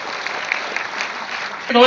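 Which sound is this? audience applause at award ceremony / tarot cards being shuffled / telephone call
audience applause at award ceremony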